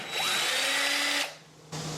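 A power drill driving out door deadbolt screws whirs up sharply and runs loud and close for about a second, stops, then briefly starts again.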